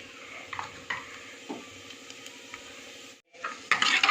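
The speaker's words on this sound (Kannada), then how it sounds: "ಶೇಂಗಾ ಬೀಜ ಈ ಥರ ರೋಸ್ಟ್ ಆಗಿರಬೇಕು" Peanuts and cumin roast in a dry pan, with scattered spatula scrapes and light rattles over a faint sizzle, then a louder burst of clattering stirring at the end.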